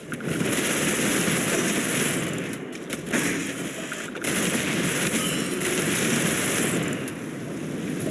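Dense, continuous bursts of rapid explosive gunfire from an energy weapon in Starfield, its particles exploding on contact, loud and sustained with brief lulls, crackling pops stacked over a roaring wash.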